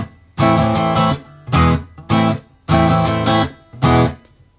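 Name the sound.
guitar strumming a song, full speed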